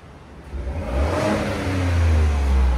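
2021 Ford F-150 with the 3.5L EcoBoost V6 and stock exhaust revving up from idle, a deep, steady engine roar that swells and holds loud and close, with no talking.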